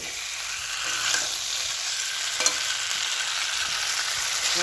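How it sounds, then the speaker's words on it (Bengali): Pre-fried potatoes and cauliflower are stir-fried in spiced oil in a pan, a steady close sizzle with a few spatula taps and stirring scrapes throughout. "এবার আমি ভেজে রাখা আলু আর কপিগুলো দিয়ে দেবো। ভালো করে কষিয়ে নেবো আমি"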